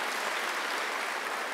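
A church congregation applauds together in a dense, steady wash of clapping that holds even throughout, moderately loud, with no voices over it.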